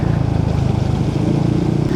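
A Yamaha Nmax Techmax 155 scooter with an open VMAX Racing muffler idles loud and close, its engine giving off a steady, throaty, pulsing drone.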